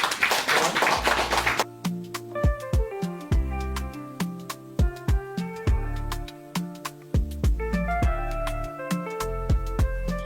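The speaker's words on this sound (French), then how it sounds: "Donc on applaudit pour ça." Audience applause at a gathering in Togo: a dense burst of clapping for about a second and a half, which then gives way to tuned, percussive music.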